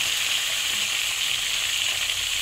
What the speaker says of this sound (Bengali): এদিকে মাথাটা ভাজা হতে থাক